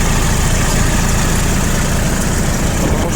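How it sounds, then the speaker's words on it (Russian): A Kubota GL-19 compact tractor engine idles loudly and close by, a steady, even rumble with a dense hiss over it that never changes; a neighbouring tractor may be louder. "я надеюсь, что хорошо слышно, что трактор работает очень ровненько"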